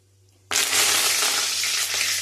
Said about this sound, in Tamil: கடுகு நல்லா பொறிஞ்சிச்சு